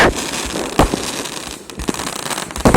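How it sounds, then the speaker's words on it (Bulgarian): Roman candle fireworks at a New Year celebration, firing in a series of loud, sharp bursts with crackling between them, close by and without talk. "Римската свеща."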